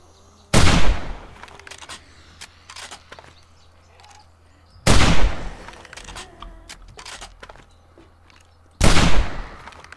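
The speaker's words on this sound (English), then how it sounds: "Aim down the sights, shoot, bolt action, reload." Rifle shots in the video game 7 Days to Die, three sharp, loud cracks spaced about four seconds apart, each followed by the clicking and sliding of a bolt-action reload.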